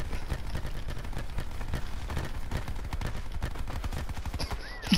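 Dense, rapid gunfire from Call of Duty: Black Ops 4 Prop Hunt on the Nuketown map, sustained bursts of automatic shots crackling continuously and loudly for the whole stretch.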